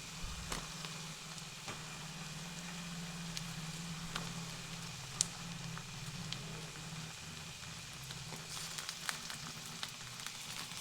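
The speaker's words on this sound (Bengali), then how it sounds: "তো এরপর টমেটোটা কিছুক্ষণ ভেজে নেব পেঁয়াজের সঙ্গে।" Chopped tomato fries with onion in a pan, giving a quiet, continuous sizzle with faint crackles and the odd small pop throughout.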